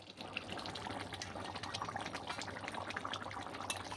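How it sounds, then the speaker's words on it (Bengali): Chicken curry broth of local rooster meat simmering uncovered in a pot, giving a steady, continuous bubbling and sputtering hiss that stays even and moderately loud throughout, with no voices. "5 থেকে 7 মিনিট ফুটিয়ে নিব।"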